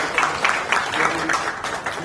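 Applause for the team that organised a corporate event, a steady patter of many hands clapping in a room, fairly close and moderately loud, with pulses of louder clapping throughout.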